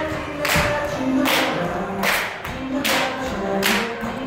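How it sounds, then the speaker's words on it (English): Sharp hand claps ring out in a musical theater dance class, coming in spaced groups of loud, bright hits over faint background music, with no voices. "Claps."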